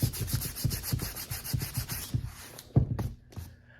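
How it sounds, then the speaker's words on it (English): A hand rubs over a smooth repair patch of air-dry filler in quick, even strokes, roughly three per second and close by, before slowing to a few separate swipes at the end. "When I run my hand over it, it's nice and smooth"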